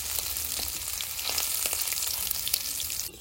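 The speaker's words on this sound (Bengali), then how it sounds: "সব মাছ ভাজা হয়ে গেছে, এবার তুলে নেবো" Fish frying in oil in a rustic village kitchen, making a close, dense sizzle with fine crackles that runs steadily for a few seconds, then cuts off.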